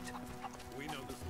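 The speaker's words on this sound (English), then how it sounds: "Chickens! Come here," Chickens cluck in the video game Rise of the Tomb Raider, a few short fowl calls mixed into a busy game soundscape with steady background noise throughout.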